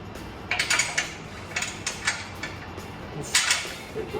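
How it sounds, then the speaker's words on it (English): A hand wrench turns bolts and nuts on a winch plate being fitted to a 2021 Jeep Wrangler Unlimited Rubicon 4xe, giving short metallic ratcheting clicks in several separate bursts, close and fairly quiet, with no speech. "So I'm just going to use a wrench."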